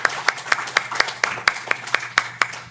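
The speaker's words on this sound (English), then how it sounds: "Round of applause." An audience applauds a panel on organic certification, with a handful of people clapping in a quick, fairly even rhythm of distinct claps, close and moderately loud.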